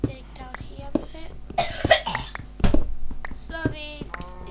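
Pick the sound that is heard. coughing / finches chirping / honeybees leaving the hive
coughing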